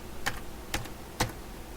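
Three quiet, separate keystrokes tap on a computer keyboard, spaced evenly about half a second apart, in an otherwise still room.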